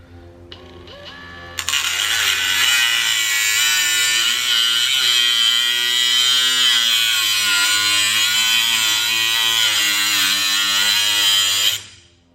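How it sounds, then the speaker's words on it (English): A power tool cuts down the threaded end of a C3 Corvette front sway bar. After a brief start it holds a loud, steady, high-pitched whine for about ten seconds, then stops abruptly. "So when I start cutting down here, I'll have a straight cut down along the face of the nut"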